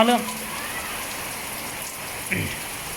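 Steady rain falls through a storm in Vientiane, Laos, a constant hiss on surfaces, with brief faint voices near the start and end.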